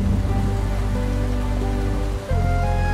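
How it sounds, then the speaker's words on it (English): Steady rain patters close and loud in a cartoon scene, a continuous wash of drops with soft tonal music underneath and a brief dip near the end. "I'm waiting for the rain to stop"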